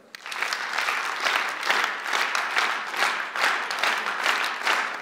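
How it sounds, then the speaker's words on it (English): A worship audience claps together in four at 79 BPM on the downbeat, a dense wash of many hands landing in a steady, even pulse roughly every three-quarters of a second, sustained and fairly loud throughout. "start clapping in four on 79 BPM, 79 BPM on the downbeat"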